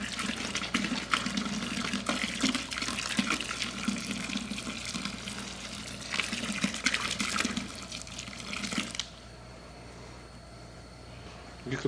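Water used to boil a deer head pours and splashes steadily into a sink for several seconds, then stops, leaving a faint hum and trickle.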